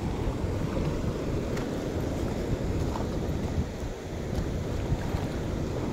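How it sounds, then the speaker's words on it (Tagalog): Strong current of the Aklan River rushing steadily close by, a dense continuous wash of water that stays loud and even throughout, with no voices. "malakas ng tubig dito."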